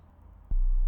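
A low sine bass note starts abruptly with a sharp popping click at its onset, then holds as a steady deep hum.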